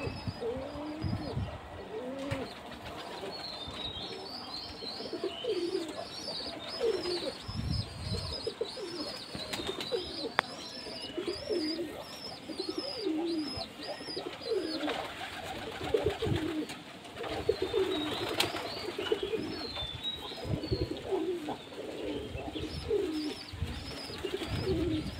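Young pigeon making soft, repeated cooing calls over about twenty-five seconds, fairly faint, with scattered chirps and light rustling around it.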